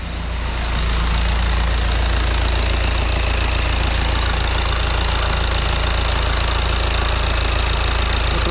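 A 2.0 TDI diesel engine idles steadily right after a timing belt replacement, starting up in the first second and then holding an even, close, continuous low rumble with no voices.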